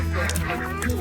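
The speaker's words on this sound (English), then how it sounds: "You following the duck?" A duck quacks on a farm, a few short nasal calls mixed under nearby people's talk and background noise outdoors.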